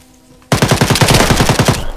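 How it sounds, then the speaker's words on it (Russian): Rapid automatic machine gun burst in the military video game ArmA 3, starting abruptly after a quiet moment and rattling on loud and close for over a second before tailing off. "Кто стрелял?"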